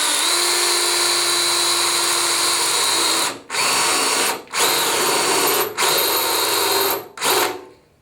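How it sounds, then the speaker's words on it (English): Power drill boring out spot welds in the thin sheet-metal radiator core support of a 1997 Mustang SN95, a loud, close, steady high whine broken by four brief pauses as the drill stops and restarts. "We drilled the spot welds out here."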